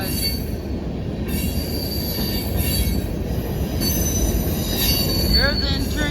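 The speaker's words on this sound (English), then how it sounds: "Brand new potash cars right there." An empty BNSF potash freight train of brand new cars rolls past close by, its wheels squealing loudly over a steady, heavy rail rumble that lasts throughout.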